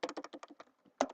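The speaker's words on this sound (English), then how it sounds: "My left hand is just slightly faster than my right hand when it comes to typing." Typing on a computer keyboard, a run of quick, fairly close keystrokes in an irregular rhythm with a brief pause before a louder final burst of keys; no voices.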